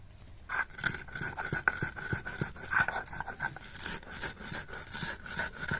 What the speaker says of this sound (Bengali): এবার একটু গুঁড়ো করে নেবো শিলে